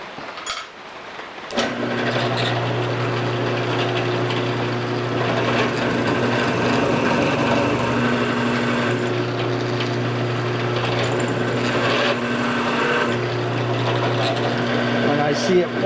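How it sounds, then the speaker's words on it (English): A drill with a larger bit boring into wood, a steady buzzing motor hum that starts after a brief pause and runs continuously, with some speech over it. "Little larger drill bit"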